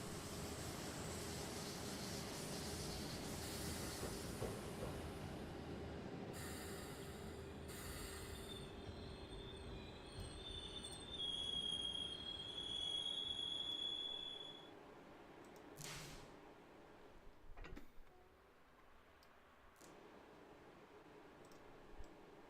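A train pulls in inside the Train Simulator game on the Gotthard line, rumbling and clattering with high wheel squeals, then slowing and falling quieter with a few knocks and brake hisses near the end.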